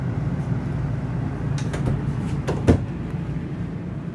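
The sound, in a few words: RV drawers with self-closing slides closing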